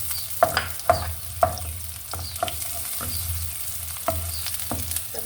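Onions frying in a pan in a home kitchen while chicken feet are being prepared, a steady sizzle broken by several sharp clatters of stirring at irregular intervals, close and moderately loud with no talking.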